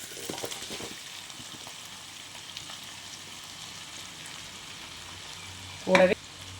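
Potatoes tipped into a hot, sizzling pan of softened onions for poori potato masala, giving a steady low frying hiss with faint stirring scrapes and a brief louder clatter near the end; no talking.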